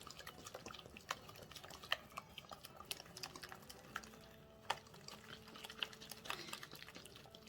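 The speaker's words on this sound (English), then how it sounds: "Then we're gonna add some oil. Alright, let's mix it up." Venison being mixed with oil for a first marination, soft wet squishing and dripping sounds from hands working the meat, close and fairly quiet, with scattered small clicks and no talking.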